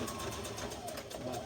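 Sewing machine stitching a second row on a red zip-front jumpsuit, a steady fast mechanical whirr with rapid ticking, fairly faint beneath a speaking voice.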